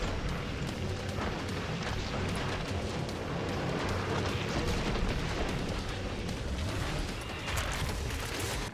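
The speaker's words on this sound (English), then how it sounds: "Grenade." Grenade blast in the video game Killing Floor 3, a dense rumbling roar of explosion and chaotic combat noise that fills the whole stretch, loud and continuous with no talk.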